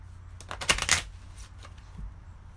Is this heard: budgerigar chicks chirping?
no